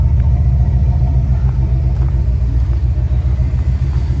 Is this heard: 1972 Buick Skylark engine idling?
yes